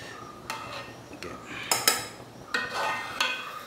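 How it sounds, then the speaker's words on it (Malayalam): A small spoon scrapes and clinks against a pot while skimming scum off homemade syrup on the stove, giving scattered metallic taps and scrapes, a few louder ones, over a quiet background. "ഈ അഴുക്കെല്ലാം കോരി മാറ്റണം വലിയ സ്പൂണില്ല അതുകൊണ്ടാണ് ഞാൻ ചെറിയ സ്പൂൺ യൂസ് ചെയ്യുന്നത്"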